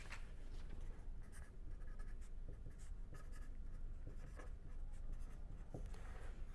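Pen scratches steadily on paper as someone writes by hand, with a continuous soft rasping and small strokes and taps, close and quiet, with no talking.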